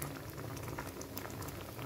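Spinach and red lentil dal bubbles in a pot, a soft, continuous boiling patter of small bursting bubbles, fairly quiet and steady throughout.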